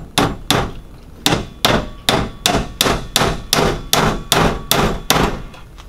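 Hammer blows drive 7-penny nails into a wooden beehive, about a dozen sharp, evenly spaced strikes ringing close and loud, each one followed by a brief decay.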